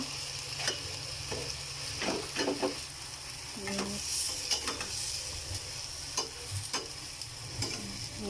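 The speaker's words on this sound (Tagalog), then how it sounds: "Haluin po natin para hindi masunog." Chicken pieces frying in oil in a pan while being stirred, a steady sizzle under repeated scraping and clinking of the spatula against the pan, close and continuous.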